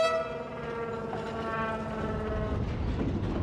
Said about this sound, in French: À bord d'un des premiers trains électrifiés au monde.